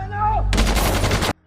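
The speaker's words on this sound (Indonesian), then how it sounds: "mereka langsung menembaki Arturo dan Moreno" Gunfire in a cartel film scene erupts as a short loud burst of shots at Arturo and Moreno, cutting in sharply over a tonal background voice and stopping abruptly after under a second.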